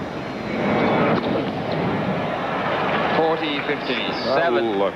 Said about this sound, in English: the plane was there. Going over.